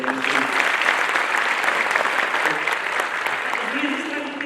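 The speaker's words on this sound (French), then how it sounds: "sous vos applaudissements, mesdames et messieurs." Audience at a Moroccan official conference applauds a regional council president, a dense sustained clapping throughout with a faint voice briefly underneath.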